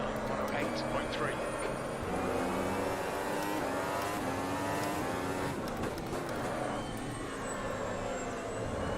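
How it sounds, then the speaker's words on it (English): A Formula Ultimate 2017 racing car at Interlagos in the Automobilista sim downshifts and brakes, its high engine pitch stepping down through several quick gear changes over a continuous roar, with a voice talking over it. "why I'm downshifting here and braking"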